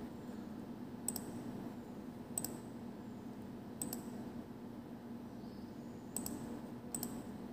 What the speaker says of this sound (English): Click OK.